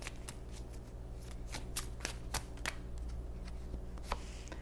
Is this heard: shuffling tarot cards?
yes